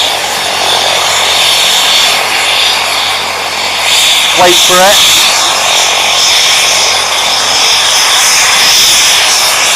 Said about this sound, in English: Zoom back out so you can see it take off.